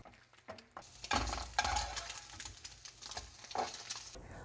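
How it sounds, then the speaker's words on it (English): An egg frying in oil in a pan over medium heat, a soft crackling sizzle with a few stirring scrapes, quiet and close, with no voices. "Heat the oil in a pan over medium heat. And fry the egg like this way."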